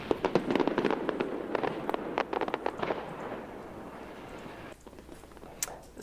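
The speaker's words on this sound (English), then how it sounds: "we're going to get to the Montreal Annual International Fireworks Competition." Fireworks at the Montreal International Fireworks Competition, a rapid volley of sharp crackling bursts and pops that thins out into a few scattered distant bangs, heard at moderate distance with no talk.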